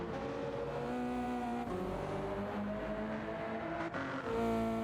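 Subaru BRZ race car in Gran Turismo 7, racing at Montréal: a steady, sustained engine drone with shifting harmonic pitch as revs rise and fall, close and continuous with no talk.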